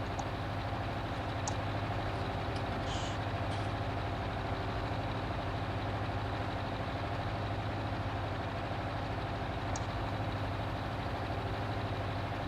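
A tractor pulling a seed drill in Farming Simulator 19 idles and drones at a steady, unchanging level, with a low continuous engine rumble and a few faint, brief high clicks on top.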